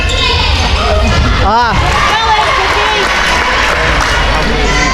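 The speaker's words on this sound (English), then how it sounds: "hear such applause and everybody cheering for you" Home crowd at an Isle of Man versus Malta under-17 basketball game applauding and cheering, a steady roar of clapping and shouts with a basketball bouncing and a commentator's voice over it.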